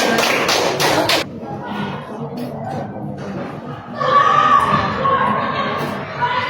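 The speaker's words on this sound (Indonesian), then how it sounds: "Tepuk tangan." Classroom students clapping in a short burst at the start, then chatter and a second swell of voices and claps, near and fairly loud.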